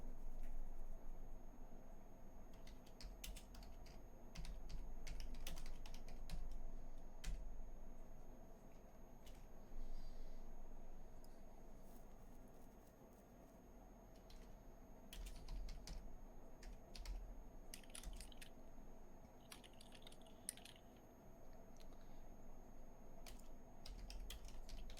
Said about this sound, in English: I'm seeing what you're typing here